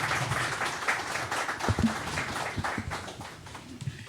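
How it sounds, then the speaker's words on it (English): An audience at an annual conference on sustainable security claps for the speakers, a moderate burst of scattered applause from a mid-sized room that slowly thins out. "please, round of applause for everyone"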